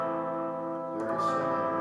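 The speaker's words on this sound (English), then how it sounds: "Minor 7th, we're going to flat the 3rd, so that would sound something like this." A minor seventh chord rings out with sustained, mellow tones, then is restruck about halfway through, brightening as the new attack blooms; the instrument is heard alone with no talking.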